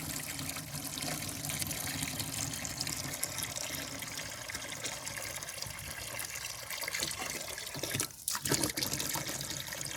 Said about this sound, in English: as I fill the bucket up